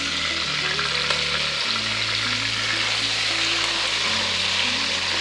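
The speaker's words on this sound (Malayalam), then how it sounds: "എല്ലാ സൈഡും ബ്രൗൺ ആകുന്ന വരെ വേണം ചിക്കൻ ഫ്രൈ ചെയ്യാനായിട്ട്." Chicken pieces fry on high flame until browned on all sides, a loud, even sizzle running throughout beneath a steady tonal background melody.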